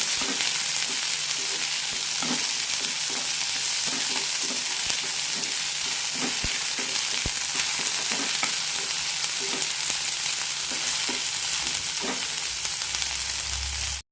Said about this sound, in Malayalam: കൂടെ തന്നെ വഴറ്റി വെച്ച വെണ്ടക്കയും എല്ലാം ഒന്ന് വഴറ്റാം